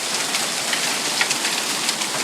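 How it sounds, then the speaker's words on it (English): Hail pounds down steadily in a summer hailstorm in Springfield, Massachusetts, a dense, continuous clatter of hailstones hitting surfaces nearby, loud and unbroken with small sharp impacts scattered through it. "Is it still hailing?"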